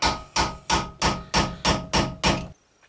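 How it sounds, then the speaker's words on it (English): Screwdriver tightening hardware on a front brake rotor of a Nissan Xterra, heard as eight evenly spaced, sharp metallic strokes about a third of a second apart, each with a short decay, close and loud, then stopping. "All I got to do is take my screwdriver and go ahead and start tightening this down a little bit."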